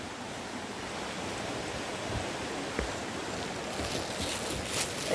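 Water rushes continuously at Daranak Falls, a steady broadband roar with a few faint splashes and knocks near the end.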